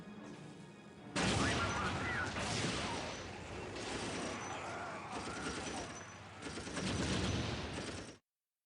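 Gunfire and battle noise from the real-time strategy game Warhammer 40k Dawn of War, a loud dense barrage of shots and crashes running almost continuously, swelling in bursts, with voices mixed in.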